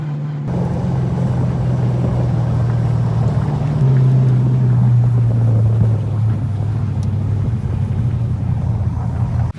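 A Mazda Miata race car drives at low speed through a training area back to the pits at Seneca Circuit, giving off a loud, steady engine rumble and drone for nearly ten seconds with slight pitch shifts.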